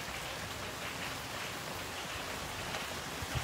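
Steady rain falls during a plant-shop livestream showing orchids, a continuous even hiss of drops on surfaces with no speech over it.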